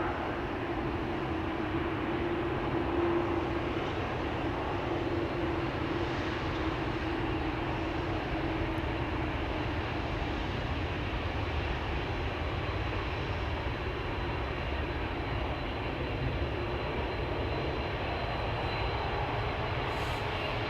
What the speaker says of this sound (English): GE and X, baby. Same engines that they are using for the Dreamliner, but here this specimen has 4.